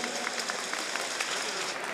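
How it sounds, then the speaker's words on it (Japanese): Audience applause at a kickboxing event, a dense, even patter of many hands clapping through the whole moment, steady and moderately loud without breaks. "皆様今一度盛大な拍手をお送りください。"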